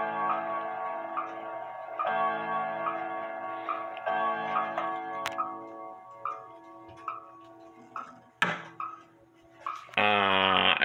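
A Hamilton Westminster chimes grandfather clock ticks in an even, regular beat, close up. Faint ringing tones linger underneath, and a brief louder metallic clunk comes near the end.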